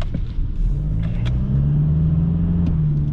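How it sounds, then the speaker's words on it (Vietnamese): Steady engine drone heard from inside a 2021 Toyota Hilux pickup cabin on the open road, a low rumbling hum that swells slightly as the truck accelerates, with faint clicks and rattles. "các bạn có thể nghe thấy tiếng máy nó dội vào bên trong khoang cabin xe rất rõ rệt"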